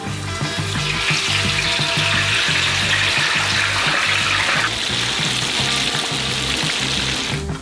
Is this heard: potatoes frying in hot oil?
yes